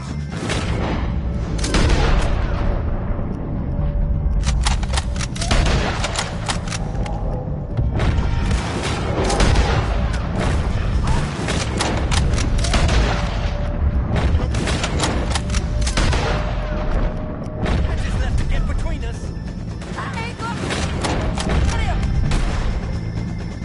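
Heavy shootout gunfire against O'Driscoll gang members in Red Dead Redemption 2: dense, loud volleys of rifle and pistol shots crackle almost without pause, with booming impacts and a few shouted voices mixed in.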